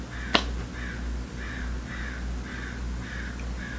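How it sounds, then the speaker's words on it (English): Outside after a rain shower, a crow keeps cawing in a regular run of harsh calls over low steady ambient noise, opening with a single sharp click or snap, with no speech. "I apologize if you hear that crow"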